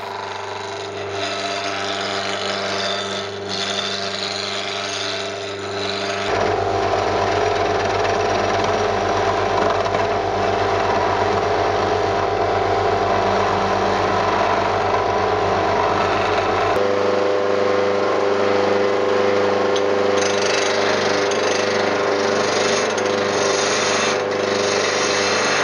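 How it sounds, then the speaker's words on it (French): A wood lathe turns a square block into a round press handle for a simple workbench, giving a loud, steady motor hum with a continuous rasp of tool on wood, heavier in the middle section, and no talking. "puis je le mets en forme sur le tour."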